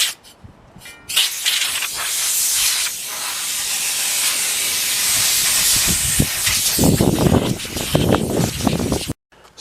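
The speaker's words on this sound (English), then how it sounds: "I want to blow everything off with compressed air" Compressed air blasts dust and loose debris off a wheel before priming, a loud close hiss in several long bursts that stops abruptly at the end.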